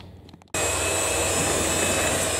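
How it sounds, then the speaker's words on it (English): An electric whisk creams butter and light brown sugar, switching on abruptly after a short quiet moment and then running as a steady, loud, even whir up close. "I'm just going to cream those with my electric whisk until it's light and fluffy"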